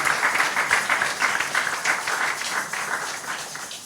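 A church congregation at a Sunday worship service applauds and cheers for the Lord, a dense, steady wash of clapping filling the room for the whole stretch without letting up.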